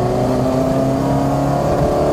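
A throttle-bodied 174bhp Citroen Saxo VTS engine drones loudly and steadily while the car is driven slowly over badly broken roads, with a constant tonal note and no break throughout.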